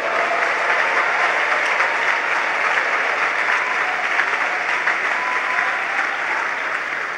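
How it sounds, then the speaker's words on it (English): A church congregation breaks into a long, loud round of applause during a sermon, steady dense clapping that holds for several seconds and fades slightly at the end. "Give the Lord a big round of applause."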